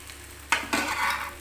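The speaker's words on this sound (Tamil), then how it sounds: "இன்னும் கொஞ்சம் நேரம் அப்படியே வதங்கட்டும் இப்போ பாதி அளவு நல்லா வதங்கிருச்சு" Okra sautés in a pan for okra fried rice, a soft steady sizzle that swells suddenly halfway through, probably as the pieces are stirred, then stays fairly loud and close to the end.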